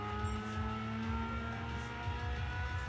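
A race car engine in Gran Turismo 5 on PS3 holds a steady, loud, buzzing drone with layered harmonics and slight pitch wobble, close and continuous for a few seconds with no voices.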